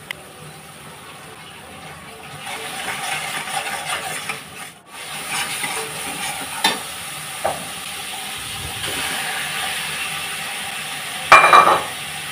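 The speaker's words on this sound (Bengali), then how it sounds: "মাছটা আমি কষাতে দিলাম" Hilsa fish fries in a pan as it is stirred, a low rough sizzle with intermittent scraping and rubbing strokes, close and moderately loud, ending in a brief sharp clatter, with no speech.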